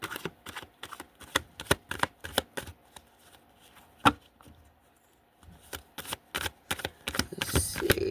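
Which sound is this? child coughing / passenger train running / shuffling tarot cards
shuffling tarot cards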